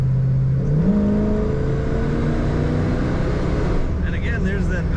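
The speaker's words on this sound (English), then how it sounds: "there's that power and throttle response. This car is really crisp on the throttle" A 1962 Chevrolet Impala two-door hardtop engine revs up, pitch rising then holding at a steady drone, loud and close, with talk faintly underneath.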